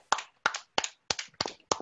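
Six sharp, evenly spaced hand claps from children at a Sunday school gathering, close and crisp with brief silences between each clap.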